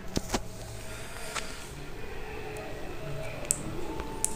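A car is driven in a Simpsons video game, with a steady engine drone and road noise under a few sharp clicks and ticks from the game, and no one talking.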